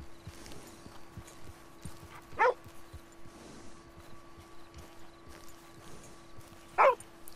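Dog barking in Red Dead Redemption 2, two sharp barks several seconds apart over steady horse hoof clip-clop and a faint ambient hum.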